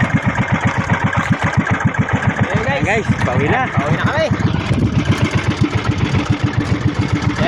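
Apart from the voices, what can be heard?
small fishing boat engine running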